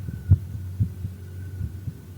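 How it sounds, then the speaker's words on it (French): A heartbeat sound effect in a French audiobook: low, muffled thumps in a slow, irregular pulse over a soft steady hum, with no voice. "le battement devenait toujours plus fort"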